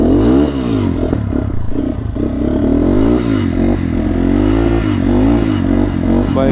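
A repaired motorcycle engine runs on a test ride, its loud rising and falling revs with rattling clatter close up, steady throughout and with no talk.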